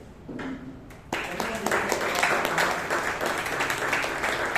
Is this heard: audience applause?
yes